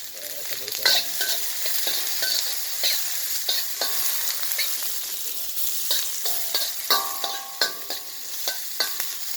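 Garlic frying in a very hot pan for a papaya dish, a steady crackling sizzle with scraping stir strokes throughout, close and fairly loud, with no talking.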